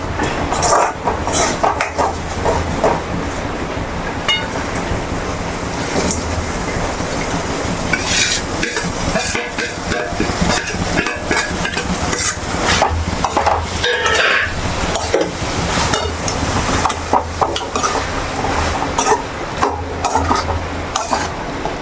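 Fish pieces for Kerala fish pickle going into a hot pan, giving a steady loud hiss of sizzling with repeated clattering, scraping stirs close by over a long stretch.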